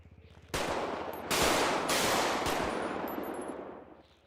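Several police trainees empty their magazines at once in a GTA V roleplay game, a dense, loud burst of overlapping gunfire that builds in two surges and keeps rattling for about three seconds before trailing off.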